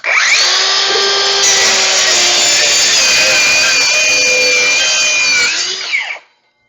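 A DeWalt 20V circular saw running on a 60V battery cuts through wood with a loud, steady whining roar that holds for about six seconds, then stops abruptly.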